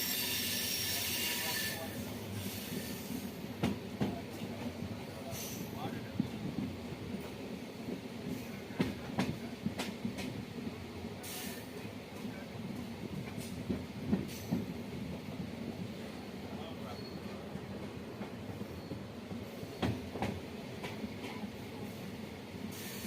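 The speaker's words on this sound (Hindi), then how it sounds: "और जल्द ही हम अपने पहले स्टॉप दरौली नामक स्टेशन पर आकर पहुंच गए और ट्रेन हमारी धीमे होने लगी" Passenger train rolling into Darauli station on the Dildarnagar to Mughalsarai line, heard from inside: steady wheel rumble with rhythmic rail clacks and occasional squeals as it slows, with faint background voices.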